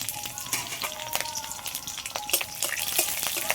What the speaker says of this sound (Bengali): কড়াইতে তেল দিয়েছি, তেলের মধ্যে দিয়ে দিচ্ছি কালো জিরে, 4 থেকে 5টা কাঁচা লঙ্কা চিড়ে নিয়েছি, এটাও দিয়ে দিচ্ছি।